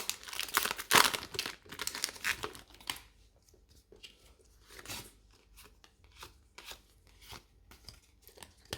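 A Pokémon card booster pack being torn open, with loud crinkling foil and ripping at the start, followed by softer rustling and crinkles as the pack is handled.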